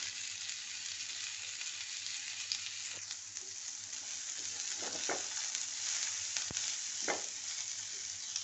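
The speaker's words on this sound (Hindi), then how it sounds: "अब बाकी ये इसमें डाल के और तलना है।" Pumpkin skins sizzle steadily in a pan with garlic and seeds over medium heat, a close, even hiss broken by a few soft clicks and scrapes of stirring.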